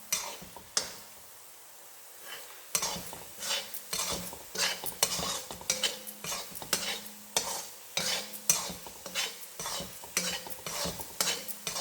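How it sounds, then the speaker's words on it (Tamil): Coconut burfee mixture being stirred in a pan, with repeated rhythmic scrapes and clatters of a spoon against the metal, close and clear, plus a soft sizzle between strokes. "இது கலக்கி விட்டு"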